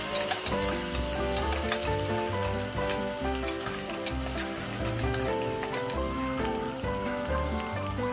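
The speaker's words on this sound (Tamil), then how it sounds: "அப்படியே வெங்காயத்தையும் சேர்த்து வணக்கிக்கிங்க" Onions and whole spices, including mace and marathi moggu, sautéing in hot oil for a yam biryani, with a steady loud sizzle and the repeated scrape of a stirring spoon against the pan throughout, close up with no talking.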